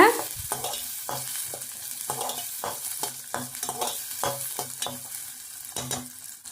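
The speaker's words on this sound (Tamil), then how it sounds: "சேர்த்துட்டு இப்போ அதையும் வதக்கி விட்டுக்கலாங்க." Garlic sautés in a pan for a fish curry, a steady sizzle of frying broken by regular scraping strokes of a spoon stirring against the pan, close and clear with no talking.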